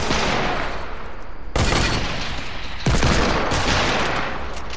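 Hunting rifle fire in Fortnite, loud sharp shots cracking over a dense, noisy battle background, with two strong reports standing out a little over a second apart.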